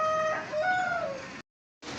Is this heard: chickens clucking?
yes